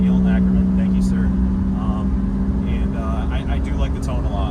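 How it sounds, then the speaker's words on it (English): A 1991 Lamborghini Diablo engine fitted with a Capristo exhaust gives a steady, loud idling drone with a deep low hum, while a person talks faintly over it. "The sound of this car is so good."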